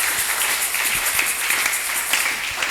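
A church congregation claps during a French-language service, a continuous wash of many hands with a few sharper individual claps standing out, steady and fairly loud from start to finish.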